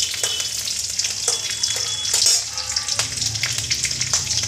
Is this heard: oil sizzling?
yes